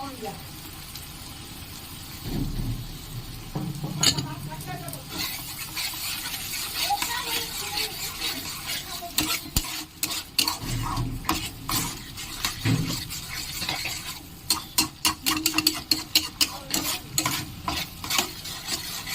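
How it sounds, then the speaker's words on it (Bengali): Paneer masala gravy with sour yogurt stirred and fried in a pan, a steady sizzle under repeated scraping strokes of a spoon, ending in a run of quick sharp taps. "খুব ভালো করে গ্রেভিটা কষিয়ে নিতে হবে।"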